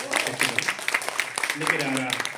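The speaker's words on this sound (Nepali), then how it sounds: "एकचोटि जोरदार ताली" An audience claps at a live ghazal show, a dense patter of hands mixed with talk over it.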